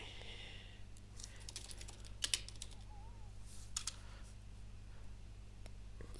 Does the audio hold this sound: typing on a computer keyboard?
yes